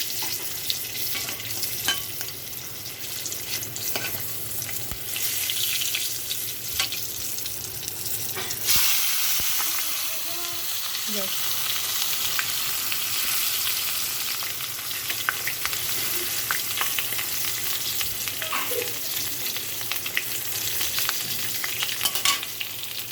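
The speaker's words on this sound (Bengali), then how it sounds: "কই মাছটা আমি চিপে চিপে ভেজে নিলাম প্রথমে।" Climbing perch (koi fish) frying in oil in a pan, a steady loud sizzle and hiss running throughout with occasional spatters and a few soft scraping sounds, no voices.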